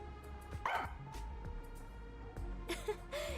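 A pet dog named Sugar in the Rain Code video game gives a quick series of yips and barks over light game music, the happy bursts fairly close and scattered across the moment.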